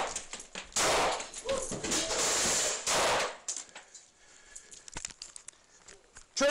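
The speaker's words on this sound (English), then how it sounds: "he made the decision to fire his duty weapon" Gunfire from a police officer's duty weapon during a body-camera-recorded confrontation, heard as loud, dense bursts of sharp cracks in the first three seconds, then fading into quieter scuffling and rustling noise.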